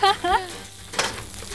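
Food sizzles and is stirred and tossed in a wok over high heat at an outdoor camping cookout, bursts of scraping and hissing under a few brief spoken words.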